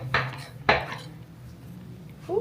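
A knife cuts a homemade calzone into pieces, giving two sharp scraping clinks of blade on a plate about half a second apart, close and fairly loud, then a quiet room and a brief voice at the end.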